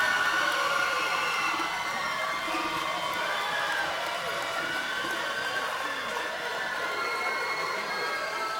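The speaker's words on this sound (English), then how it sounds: "She's got a cheering squad." Family members cheer and shout for a graduate at a law school commencement ceremony, a steady crowd roar heard under the announcer reading names.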